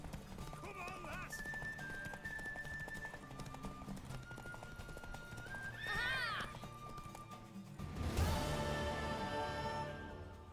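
Horse in The Witcher 3 neighing loudly twice, a mid-clip whinny and a long shrill neigh near the end, over steady galloping hoofbeats, game music and scattered voices.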